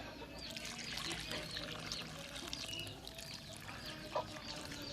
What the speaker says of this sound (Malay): Dan sekarang saya siram dia.